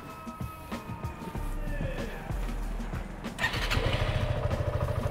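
A Suzuki Gixxer SF 150 cc motorcycle with about 28,000 km on it cranks with a few mechanical clicks, then catches and settles into a close, steady low idle with a faint rhythmic thrum.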